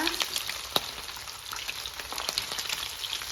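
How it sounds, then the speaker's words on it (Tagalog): Fish fries in hot oil with a steady crackling sizzle and scattered sharp pops, close and moderately loud, with no talking over it. "Piniprito na niya yung isda doon. So, nabaliktad na siya."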